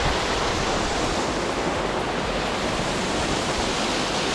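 A waterfall cascades into a deep pool in a ravine, a steady, dense broadband rush of falling water, loud and close, with no voices.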